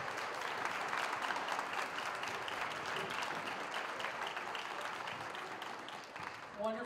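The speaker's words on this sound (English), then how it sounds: "So let's give them another round of applause." Audience applause at a high school holiday concert: steady, moderately loud clapping from a crowd for several seconds, tapering near the end as a voice starts to speak.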